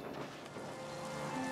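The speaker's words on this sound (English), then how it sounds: "well, it's raining." Steady rainfall in the video game Foundation, a dense, even patter filling the moment with faint tonal game sounds layered on top.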